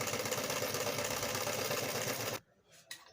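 A Janome 802/803 sewing machine does straight stitching, a close, rapid mechanical whirring with a steady rhythm that stops abruptly near the end, followed by a couple of faint clicks.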